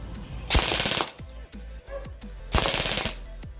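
An E&C HK416 airsoft rifle fires full-auto bursts into a pillow, two loud, rapid half-second rattles close by, with quieter clicks and handling noise between them and no talking.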